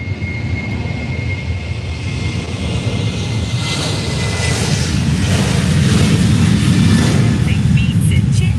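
Jet2 jet airliner at Faro airport, a loud continuous engine roar that swells steadily as it passes, with a broad rushing rumble and no talk over it.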